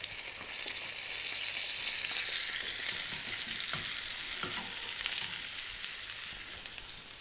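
Salmon frying skin side down in hot oil, giving a bright, steady, close sizzle that holds evenly for several seconds with a few faint ticks and clicks and no talking.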